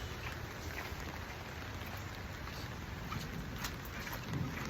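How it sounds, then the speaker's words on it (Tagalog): Rain falls steadily at a cabin resort, a soft, even hiss of drops on surfaces, quiet and continuous with no talking. "Maulan, maulan."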